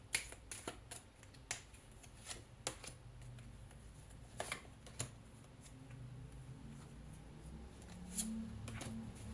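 Tarot cards being shuffled and drawn, a string of soft, sharp card snaps and flicks spaced irregularly over a quiet, faint background, close by and with no talking.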